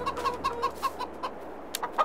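Chickens in the farming game Landwirtschafts-Simulator 22 cluck in a quick, steady series of short calls, close and clear, with a sharper squawk near the end and no talking.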